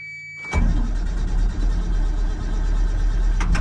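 A truck engine cranks and catches abruptly, then runs with a low, steady rumble close by, a brief whirring tone preceding the start.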